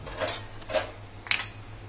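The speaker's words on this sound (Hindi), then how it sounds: "कुकर खोल के देखते हैं।" A steel pressure cooker lid is twisted open after cooking chana dal, giving a few metallic clanks and scrapes, ending with a sharper clink, close and fairly loud over a low hum.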